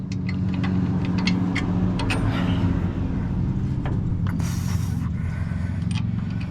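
A ratchet works a bolt on a Ford Courier mini-mover, clicking and creaking against a steady mechanical background hum, close up with no voices.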